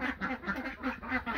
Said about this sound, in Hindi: ये बतखें जो है वो लड़ाई कर रही हैं।